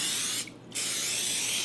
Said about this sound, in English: We're going to spray this good.